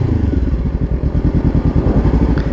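Honda CBR500R motorcycle accelerating hard, its engine giving a loud, close, steady pulsing growl that holds throughout with no talking.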